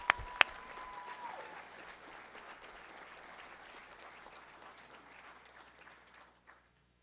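Applause from an audience at an honors convocation for students, a steady, full burst of many hands clapping at moderate distance, opening with a couple of sharp claps and fading out after about six seconds.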